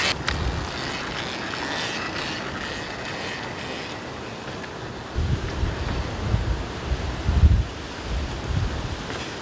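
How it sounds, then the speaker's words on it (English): Strong wind buffets the microphone beside an electric dirt bike at a kicker ramp, a steady loud roar with gusty low surges toward the end. "Oh, it's windy there."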